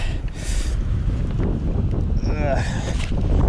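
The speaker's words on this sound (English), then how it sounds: "God, it is pretty windy." Strong wind on a deserted island buffeting the microphone with a constant low roar, broken by faint background sounds.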